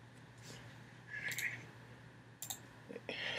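A computer mouse clicks a few times while a virus removal program is downloaded and saved, short sharp clicks scattered over a quiet room hum.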